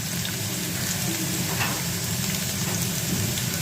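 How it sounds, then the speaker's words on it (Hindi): Garlic frying in hot oil: a steady, dense sizzle and crackle, loud and close, continuous throughout with no talking. "इसमें मैं ये लहसुन डाल दूँगी और अच्छे से इसको फ्राई करके ब्राउन टाइप के निकाल लेंगे"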